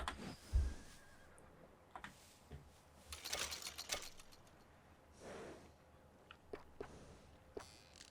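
A horse neighs in the video game Red Dead Redemption 2, one drawn-out whinny in the middle with a few soft snorts and hoof-like ticks around it against a quiet background.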